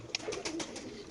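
Pakistani racer pigeons in a market cage coo softly in a short low murmuring burst, with faint background chatter.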